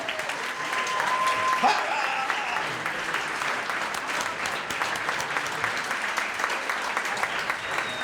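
Sustained applause from a crowd, steady and full for several seconds, with a few faint voices mixed in.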